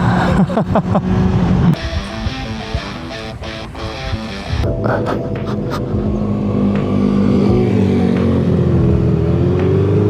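Motorcycle engine revving and running loud and close, the pitch rising and shifting through several changes, with a steady drone carrying on to the end.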